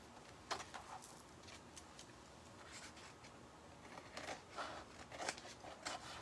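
Scissors cutting decoupage paper in quiet, scattered snips and crisp slicing strokes, faint and close, with soft rustling between cuts.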